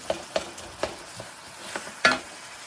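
Seafood with corn, onion and crab meat is stirred in a sizzling pan, a few distinct scrapes and taps of the spatula sounding over a soft frying hiss, close and clear, with no talking.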